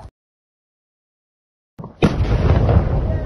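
Drone debris exploding in a wartime attack: after near silence, a sudden heavy blast bursts out and rolls on as a loud, sustained rumbling roar.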